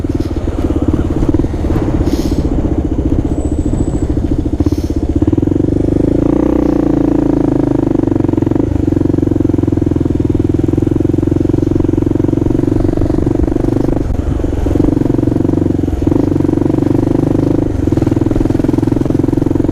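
A Kawasaki KLR650 motorcycle rides through city streets from upper Manhattan toward the Bronx, its loud, steady engine drone holding close throughout with slight rises in revs and faint traffic clatter.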